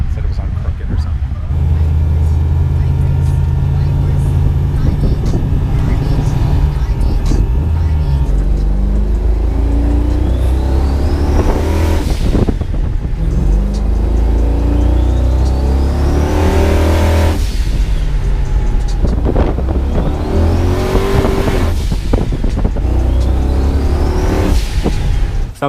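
A 1000+ hp Mustang with a small-block Ford V8 and 88mm turbo, heard from inside the cabin, roars loudly through repeated hard pulls, each rising sharply in pitch with a turbo whine, under occasional talk from the occupants.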